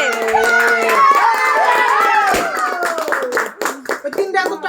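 Guests clap at a child's birthday celebration, a burst of loud close hand claps under a crowd's singing and children's voices, with people talking over it.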